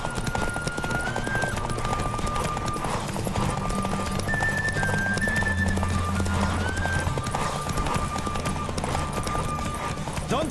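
A horse gallops in a race in the video game The Witcher 3: Wild Hunt, with rapid steady hoofbeats and occasional whinnies over game music and ambience.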